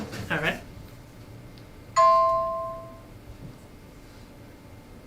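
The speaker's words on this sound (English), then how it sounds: "Excuse that noise. That was my phone." A mobile phone chimes once with a bright, clear tone that rings and slowly fades over about a second, heard close after a brief spoken remark.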